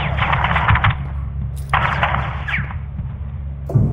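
Automatic gunfire in Call of Duty Modern Warfare 2 (2022): close, loud sustained bursts of rapid shots over a low rumbling bed, with brief pauses and a couple of sharper impacts.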